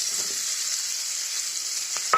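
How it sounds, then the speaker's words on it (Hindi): Roughly cut onions sautéing in a pan for paneer butter masala, giving a steady close hissing sizzle with a brief stirring scrape near the end and no talk. "प्याज को सॉफ्ट कर लेंगे हम।"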